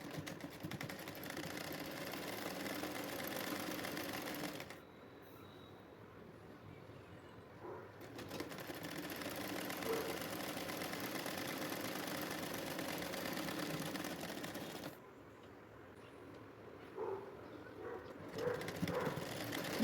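A sewing machine stitches the side seam of a garment, running in a steady whirring drone with two short pauses where it stops, close and continuous.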